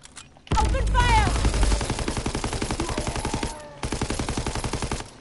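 Gunfire in Call of Duty: WWII Zombies, a loud booming shot followed by rapid rhythmic automatic bursts, a short pause, then another fast volley.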